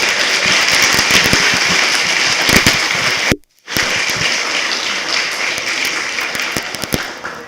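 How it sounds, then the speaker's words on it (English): An audience at a school STEM showcase claps for the students in sustained, dense applause with sharp individual claps, broken by a momentary dropout before the clapping resumes. "Can we give a round of applause for all of our students?"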